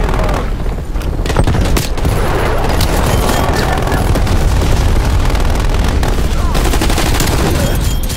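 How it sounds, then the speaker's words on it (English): Napalm strike explosions in Call of Duty: Black Ops Cold War roar continuously, a loud, dense barrage of booming blasts and crackling fire with rapid gunfire mixed in, filling the whole stretch without pause. "napalm strike inbound"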